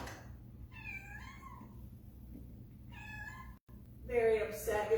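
An upset cat meows twice in long, drawn-out wails, well separated, and a louder, harsher cry comes near the end over a low steady room hum.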